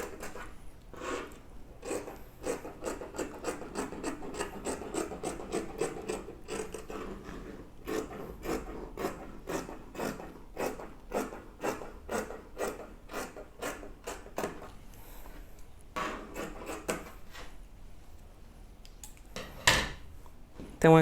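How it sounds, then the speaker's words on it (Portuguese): Scissors cut through folded fabric in a sewing class, giving a long run of quick, regular crisp snips close to the microphone, each cut sharp and brief, with a louder snip near the end and no talking. "venho, corto e automaticamente, como o meu tecido tá dobrado, eu já vou estar cortando mais duas partes"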